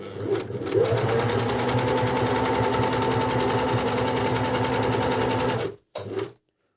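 A Singer 5810C sewing machine stitches knit fabric in a fast, steady mechanical whir heard close up, running continuously for several seconds before stopping, followed by a brief short burst.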